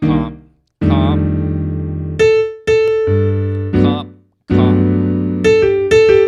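Solo jazz piano comping sustained chords on a standard, with several struck chord voicings ringing out in a stop-start pattern, each decaying before the next, loud and close with no talking.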